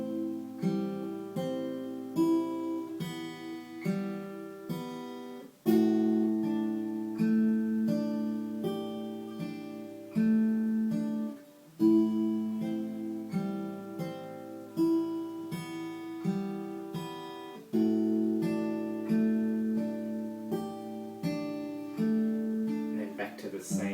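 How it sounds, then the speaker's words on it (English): Acoustic guitar fingerpicked slowly in a steady repeating pattern, thumb striking the open A bass string under plucked upper notes, clear and close with no talking. "So going slowly, it's going to sound like this."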